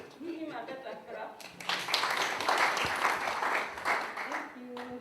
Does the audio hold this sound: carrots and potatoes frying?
no